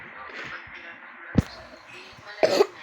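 Two sharp, close coughs break through a quiet background with faint voices, one short burst followed by a longer, harsher one.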